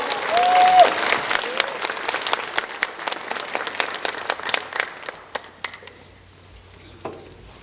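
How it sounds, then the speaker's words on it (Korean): A church congregation applauding together, dense steady clapping that thins out and dies away after about five seconds into a quiet room with a few stray claps. "우리가 한번 뜨겁게 우리 교회 하나님의 박수 보내주시기 바랍니다"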